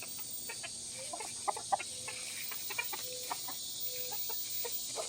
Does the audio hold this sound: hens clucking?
yes